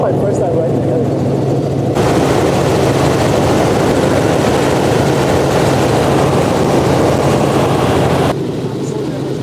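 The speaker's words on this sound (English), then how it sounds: "It's my first time riding a helicopter." Helicopter in flight, heard from inside the cabin on a first ride, a loud steady broadband rotor and engine roar that fills the whole stretch without letting up.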